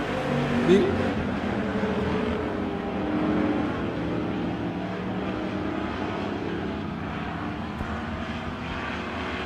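Race cars lapping at Emo Speedway during a season finale, a dense mid-level engine roar that swells and fades as the pack passes, heard from a distance with a commentator talking over it.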